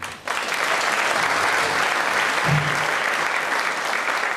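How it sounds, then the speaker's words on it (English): Audience applause for a volunteer named Sharon at a stage and cabaret magic show: a full, dense round of clapping that starts abruptly and holds steady and loud throughout, with no talk on top. "let's give Sharon a huge round of applause"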